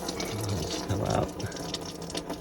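Coolant draining from the radiator of a 2009 Nissan Altima 2.5L with the cap off: a steady close splashing trickle of liquid pouring into a container, continuous throughout.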